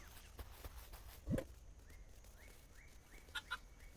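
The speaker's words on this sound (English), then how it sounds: "our rooster has been active." A rooster in the Dinkum farming game gives short clucking calls, one low burst near the start and two brief higher calls later, faint over a steady background of game ambience and soft chimes.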